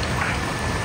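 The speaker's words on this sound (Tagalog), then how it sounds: "Mas grabe yung ulan." Heavy rain pouring down outdoors at a resort, a brief dense steady hiss with no break.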